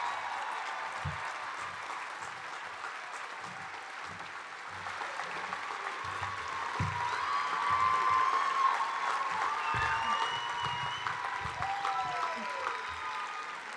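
Applause for healthcare workers at a university graduation ceremony, a broad steady wash of clapping that swells slightly in the middle, with faint voices beneath.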